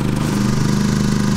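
Champion dual fuel propane/gasoline portable generator running steadily with its exhaust pointed sideways, a constant close, loud engine drone with a strong low hum and no voices.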